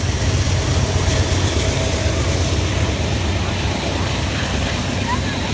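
An intermodal freight train hauled by an SD60M locomotive and -944CW units runs fast uphill heading south, a steady loud rumble and rolling roar that stays constant throughout, with faint speech beneath it.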